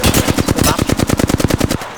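Rapid automatic gunfire from Apex Legends rattles off in a fast, even burst of about twenty shots, loud and close, stopping abruptly near the end with no talk over it.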